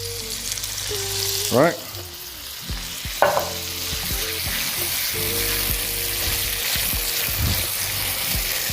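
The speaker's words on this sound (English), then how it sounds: "Now I'm going to add my W sauce." About a tablespoon of Worcestershire sauce poured into a hot pan, bursting into a loud sizzle that carries on under clanking utensils and a few spoken words.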